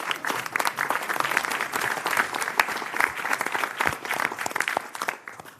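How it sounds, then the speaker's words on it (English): Audience applause at the inaugural meeting of a metropolitan public transit authority, a sustained burst of many hands clapping close by, with a few cheers mixed in. "let's give ourselves a round of applause for making it this far"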